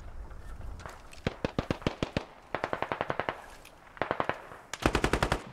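Gunfire in the video game Squad, several bursts of rapid sharp shots in quick rhythmic strings, fairly distant and moderately loud, separated by brief pauses, with no talking.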